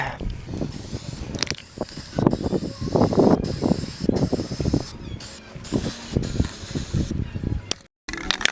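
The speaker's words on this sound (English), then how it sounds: "I'm gonna spray paint. I'm gonna start with just a plain white coat over everything" Aerosol spray paint hisses in repeated bursts as a plain white base coat goes over a carved wooden olive rockfish, close and loud, with short pauses and a clatter near the end.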